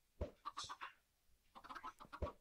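Minecraft chickens cluck in short bursts, two separate flurries of squawky clucks with brief quiet between, close and fairly clear with no talk.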